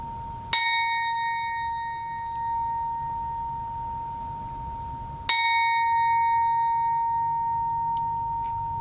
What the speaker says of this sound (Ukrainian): В Івано-Франківську вкотре пролунав традиційний дзвін пам'яті у згадку про загиблих воїнів.